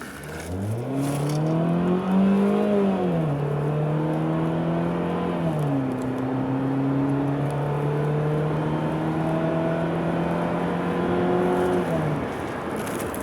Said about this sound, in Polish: Teraz może Piotrze pokażesz nam jak to przyspiesza, jak to no, jeździ.